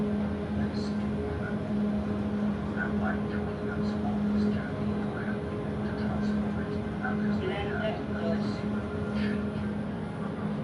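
A television plays in the background of a hotel lobby, a steady murmur of voices and sound that runs continuously at moderate level throughout.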